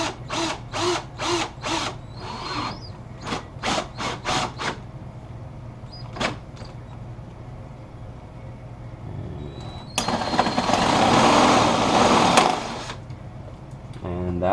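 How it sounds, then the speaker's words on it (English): A power drill whirs in short pulsing bursts, then runs in one longer, louder grinding stretch as it bores through plastic motorcycle fairing, close by. "when you're drilling into plastic, you'd rather drill it than melt it"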